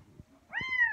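A kitten gives a single clear, rising meow up close, with a few soft thumps and small rustles just before it.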